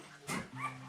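Three-day-old Bullmastiff puppies cry faintly and close by, giving two short, high whimpering squeals in quick succession.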